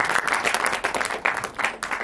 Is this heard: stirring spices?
no